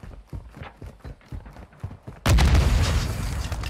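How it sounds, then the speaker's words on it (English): A stun grenade goes off in a hardcore shooter video game: a string of quick thudding footsteps, then a sudden loud broadband bang that hangs as a sustained roaring ring. "Stun grenade out! Throwing grenade!"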